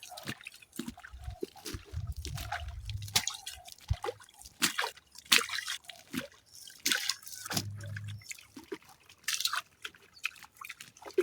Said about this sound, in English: Have to pour some water on the bed so that our seeds will get a wet bed.